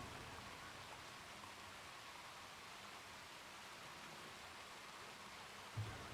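Steady, even hiss of rain falling in the video game Red Dead Redemption 2, soft and continuous, with a brief low bump near the end.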